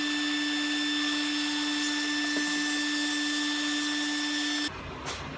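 Table saw running loud and steady as a panel sled with a workpiece passes through the raised blade to trim off a piece, a constant motor whine that cuts off abruptly near the end.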